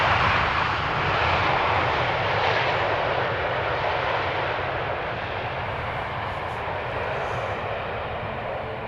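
Boeing 737 airliner landing at Amsterdam Schiphol Airport after arriving from Tel Aviv, a loud, broad engine roar that swells early then slowly eases as the jet rolls out, heard alone without talk.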